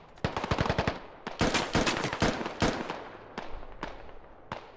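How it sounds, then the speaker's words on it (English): Cover fire in the Squad Ops video game during a one-life operation: a rapid burst of automatic gunfire, then heavier spaced shots that thin out into a few distant single cracks. "Adding some cover fire from his sandbag here"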